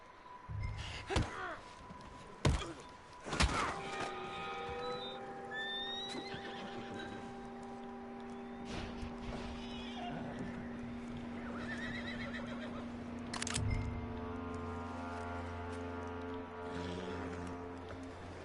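A horse in the video game Red Dead Redemption 2 neighs and whinnies loudly, with clip-clopping hooves and thuds scattered through, over a steady synthetic tone.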